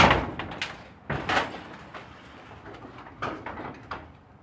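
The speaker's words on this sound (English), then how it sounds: "lift up the door." A garage-style door is lifted up to get a bike in and out, giving several sharp rattling clanks and bangs in bursts with quieter scraping between them, close and moderately loud.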